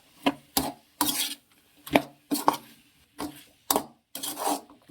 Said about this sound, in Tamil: காய்கறிலாம் சேர்த்து நல்லா வதக்கி விட்டுக்கலாம்.